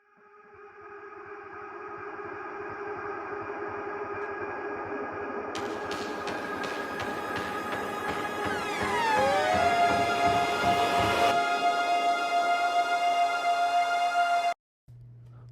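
Siren sound effect layered with a reversed, fading-in synth pad in an indie pop/rock song production; the sustained wailing tone swells steadily over a dense musical bed, rising in loudness before cutting off briefly near the end.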